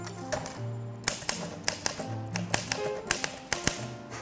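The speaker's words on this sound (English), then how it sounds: "I gotta buy a typewriter" Keys strike a typewriter in quick, uneven taps, with a few sharper clacks among lighter ones, close and fairly quiet, no speech over them.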